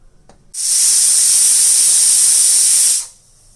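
Food fries in a pan while cooking an aloo, chicken and chili dal dish, giving a loud, steady hiss that starts abruptly, holds for about two and a half seconds, then fades out.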